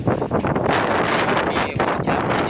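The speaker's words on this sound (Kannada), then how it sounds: "ಗಾಳಿ ಕಟ್ಟಾಪಟ್ಟಿ ಐತ್ರಿ." Strong wind roars continuously, with rough blasts hitting the microphone throughout.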